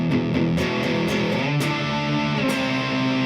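Distorted electric guitar plays the verse of a song in a rock guitar lesson, chugging fast, heavily overdriven chords with sharp, rhythmic pick attacks, loud and close.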